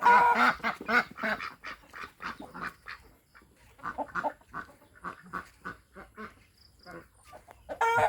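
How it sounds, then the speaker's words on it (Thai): Domestic chickens on a mixed farm cluck repeatedly at close range in short, uneven bursts, with other fowl calls mixed in. "ไก่บ้านก็มีนะครับ"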